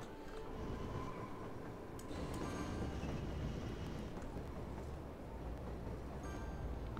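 Subway train in the Cities: Skylines video game rumbling steadily with a low rolling drone and faint rail clatter, moderately quiet and continuous throughout.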